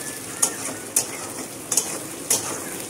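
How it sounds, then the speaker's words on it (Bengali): Chicken, chopped tomatoes and curry leaves fry in a pan with a continuous soft sizzle, punctuated by four sharp metallic clinks of a spoon scraping and stirring against the pan. "টমেটো কুচিয়ে রেখেছি, আর চিকেনটা এবার ভাজবো।"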